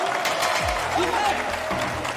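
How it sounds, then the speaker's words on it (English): Sustained crowd applause and cheering at a squash match at the Manchester Open, a loud, steady wash of clapping filling the whole stretch. "Crowd absolutely loving that one."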